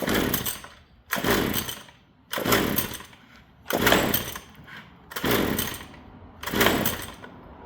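A two-stroke (2-cycle) string trimmer engine on full choke, with a fault that lets it run only on half choke, starts and sputters. It gives six loud, raspy revving bursts about a second long, each separated by brief drops to near quiet.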